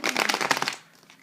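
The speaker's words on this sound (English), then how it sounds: "Let's give a shuffle." A quick burst of rapid papery riffling as a deck of tarot cards is shuffled up close, then fading to soft rustles.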